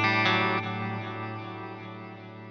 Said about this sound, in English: So it can function as a proper delay. Actually, if we turn the tone down,